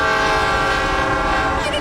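A train horn blares in one loud, continuous sustained chord as the train approaches, close and steady throughout with a rumbling undertone.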